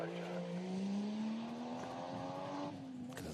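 A race car with a mid-mounted turbocharged 2.5-litre Toyota 1JZ six-cylinder engine at a sprint event, heard faint and distant as a steadily rising engine whine for a few seconds.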